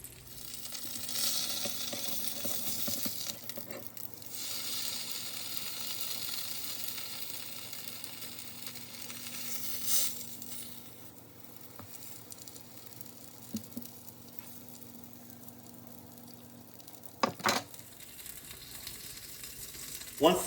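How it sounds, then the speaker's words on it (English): A Thanksgiving leftover sandwich fries in a pan with a steady, even sizzle and crackle lasting the whole stretch, plus a few brief clatters late on. "transfer the sandwich to the pan. And just leave it to cook until it's about golden brown"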